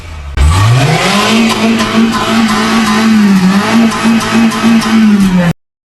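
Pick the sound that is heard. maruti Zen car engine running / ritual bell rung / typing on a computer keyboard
maruti Zen car engine running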